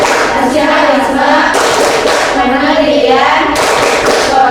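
Classroom of students claps and chants together in the PPK clapping routine, bursts of group claps between loud unison chanting voices.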